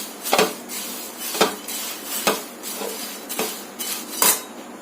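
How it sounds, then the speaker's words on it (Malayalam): A spoon scrapes and clinks repeatedly against a pan while beaten rice is dry-roasted for a coconut halwa, giving five regular, fairly loud strokes about one second apart with no talking. "നമ്മൾ ഇതുപോലെ ഒരു രണ്ട് മിനിറ്റ് ഇളക്കി കൊടുക്കണം"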